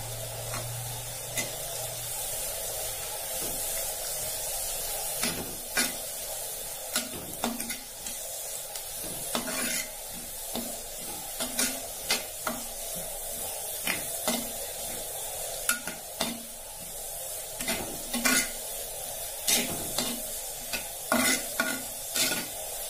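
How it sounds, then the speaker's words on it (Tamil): Onion, green chili, tomato and curry leaves sauté for chicken kothu parotta, with a spoon stirring and scraping the pan in repeated strokes over a steady close sizzle, and no talking. "வெங்காயம் கொஞ்சம் வதங்கியாச்சு."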